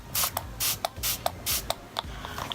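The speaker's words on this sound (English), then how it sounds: "I'm just going to spray some Fix Plus on this" Fix Plus setting spray mists onto a face in a series of short, close hissing bursts, about four longer sprays interleaved with quick pump clicks, with no talking.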